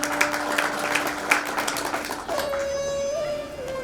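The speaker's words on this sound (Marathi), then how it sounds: "खुसपेंसाठी टाळ्या" Clapping from a small crowd at a staff welcome gathering of the Bhiwandi bus depot, honouring a guest named there, a steady patter of hands lasting a few seconds with a faint tone humming beneath.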